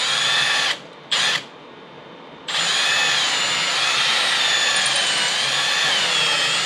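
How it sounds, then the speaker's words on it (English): A power drill bores a hole for a guitar bridge, its high whine running loud and close, breaking off briefly, dropping to a lower hum, then surging back to full speed and holding. "I'm going to drill the 6th hole down as well."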